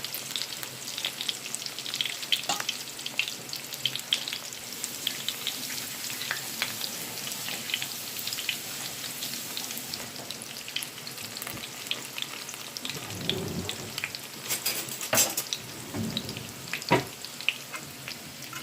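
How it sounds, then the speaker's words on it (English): Steady crackling sizzle of Trinidadian bara dough patties frying in oil, continuous throughout with a few louder spatters and brief clatter near the end. "So think of it as lightly frying homemade patties"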